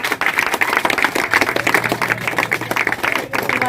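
A hall audience claps for a girl named Aanchal, a third-place winner at a school prize distribution, with dense, steady applause filling the whole stretch and a voice faintly audible beneath.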